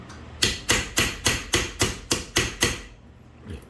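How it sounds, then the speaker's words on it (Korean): Hammer tapping a metal fly fishing reel body over a rounded steel form set in a groove, nine sharp evenly spaced strikes in quick rhythm, loud and close, then a pause and a softer final tap. "이렇게 해서 망치로 톡톡 쳐줍니다"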